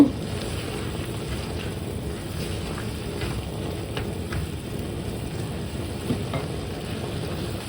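A chicken and potato filling with chili flakes cooks in a pan, giving a continuous close sizzle broken by occasional scraping stirs, with no talking.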